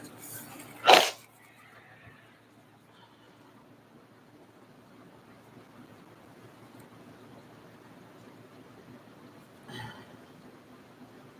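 A single sharp sneeze-like burst from a person with an allergic reaction, a long quiet stretch, then a fainter sniff near the end.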